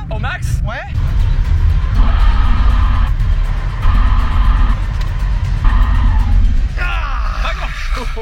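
A car braking hard from about 100 km/h on snow chains gives a loud, continuous rumbling roar with a gritty scraping edge that holds for several seconds and then eases. Voices are heard over the noise near the start and end.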